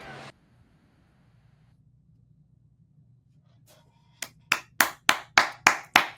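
Crowd at a Major League Baseball game between the Rockies and Twins clapping in unison, seven sharp, evenly spaced claps following a near-silent lull, loud and rhythmic.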